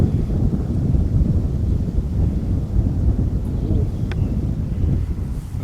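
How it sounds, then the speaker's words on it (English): Strong wind blows across an outdoor cemetery in Morrow County, Ohio, as a steady, loud low rumble buffeting the microphone throughout, with no voices. "as the wind picks up"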